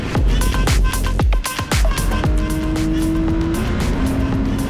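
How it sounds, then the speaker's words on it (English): Porsche Cayman race cars battle on track in loud, close passes. Engines howl and sweep past in quick succession, with rising and falling pitch and one car's note holding steady at the end. "and of course the Caymans doing battle"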